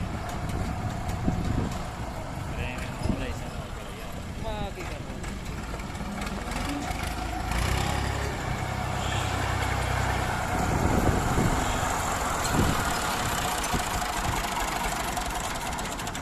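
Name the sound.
tractor engine running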